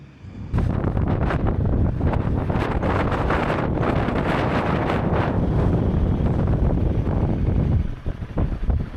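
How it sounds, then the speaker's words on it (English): Strong wind buffets the microphone at a remote Patagonian border crossing on the Argentinian side of a motorcycle trip, a loud, steady roaring rush with gusty fluctuations that drops slightly near the end. "It's actually very windy here"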